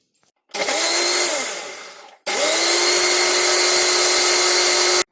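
A blender whirs loudly as it mixes strawberries, banana and almond milk into a milkshake, running in two bursts: the first winds down after about two seconds, then the second stays steady and full until it cuts off.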